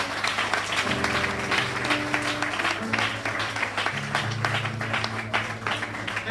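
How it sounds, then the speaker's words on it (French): A church congregation applauding in steady continuous clapping, with sustained organ or keyboard chords underneath and some voices mixed in. "On dit acclame pour la gloire de Dieu"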